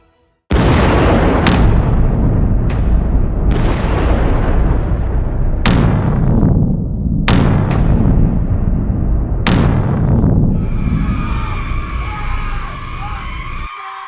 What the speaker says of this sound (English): The port's exploding!